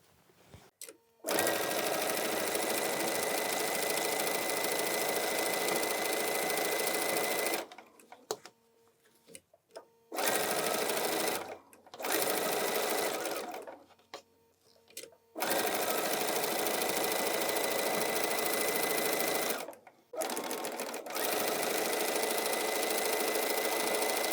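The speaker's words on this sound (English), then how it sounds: "let's go to the machine, let's sew a row or two, and I'll show you how quick that is" Sewing machine stitching rows of fabric on fusible grid for a patchwork snowman, a loud, close, steady whirring hum in long bursts with short pauses between seams.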